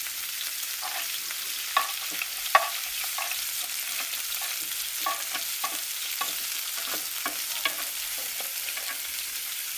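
Chopped shallots fry in hot oil with mustard seeds, fenugreek and cumin for dal sambar, a steady close sizzle broken by light spoon stirs and scattered small pops.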